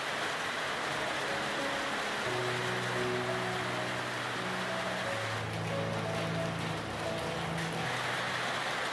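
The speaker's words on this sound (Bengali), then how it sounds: "মুষলধারায় বৃষ্টি হয়ে ঝরে পড়ল, আর সেই সাথে শুরু হলো ঠান্ডা হাওয়ার ঝাপটা।" Heavy downpour pours onto trees and a tin roof at a riverside homestay by a dense jungle in the Dooars, North Bengal, a constant broad wash of rain with faint low tones drifting underneath.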